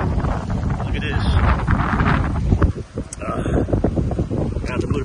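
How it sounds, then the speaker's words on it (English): Strong wind beside the Snake River in eastern Washington buffets the microphone at a camping spot, loud roaring gusts that rise and fall continuously, with a voice heard partly within the noise. "The wind over here, east of Washington Snake River, is crazy."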